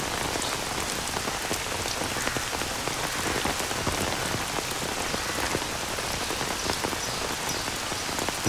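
Heavy rain pours down steadily and loudly, a dense, unbroken hiss of drops pattering on surfaces close by, with no voices.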